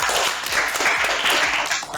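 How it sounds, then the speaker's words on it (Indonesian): A classroom of students claps for a classmate, a short burst of close, uneven hand claps from a small group. "tepuk tangan untuk Anissa"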